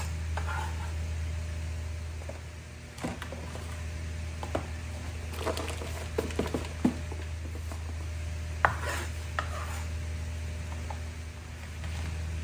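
Meat for sisig chopped on a board beside a sizzling pan: scattered knife thuds and scraping strokes, irregular and close, over a constant frying hiss and low hum, no talking.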